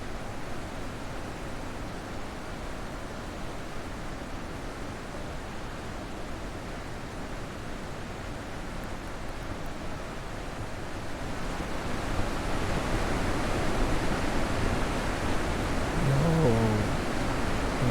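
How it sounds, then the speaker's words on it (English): Steady broadband rush of a waterfall in the video game The Witness, a continuous even roar that swells slightly louder partway through, with no talking. "Lovely waterfall."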